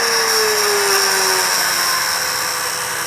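A small drilling machine whines steadily as it bores into saltwater pearls, a high continuous tone with a pitch that drops slightly early on, loud and close with no talking.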